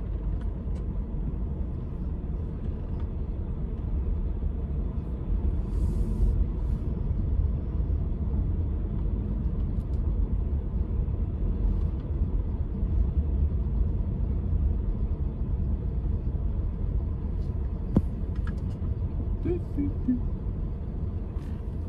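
Low, steady car rumble heard from inside a vehicle as it pulls away, a constant engine and road drone throughout with no talk.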